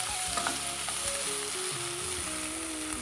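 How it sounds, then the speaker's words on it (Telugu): Ivy gourd and small tomato pieces fry in a pan, giving a loud, continuous crackling sizzle with a few stirring scrapes and no voices. "ఒక 2 మీడియం సైజ్ టమాటాలు తీసుకొని ఇలా చిన్న ముక్కలుగా కట్ చేసుకొని ఇవి కూడా వేయించుకోవాలి"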